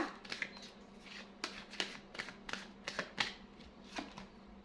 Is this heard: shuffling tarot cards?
yes